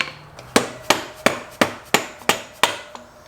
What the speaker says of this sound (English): Use the hammer to tap, make sure you're good and lined up.